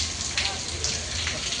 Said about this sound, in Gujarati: વરસાદ રોકાવાનું નામ લેતો નથી.